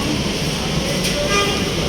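An LRT light rail train passes near a street on the way to a market, a loud, steady rumble with a bright hiss that fills the whole stretch while people talk nearby.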